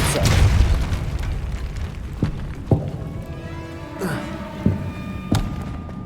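A Depulso spell is cast in the Hogwarts Legacy video game, heard as a series of deep booming thuds and sharp pops at irregular intervals, with a faint background hum.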